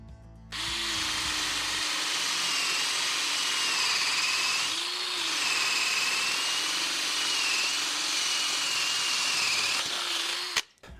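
A Ryobi cordless drill bores with a 3/4-inch spade bit, a loud steady high motor whine held for about ten seconds with slight dips in pitch under load before stopping abruptly.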